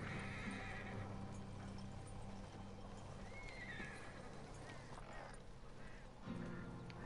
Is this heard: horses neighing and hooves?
yes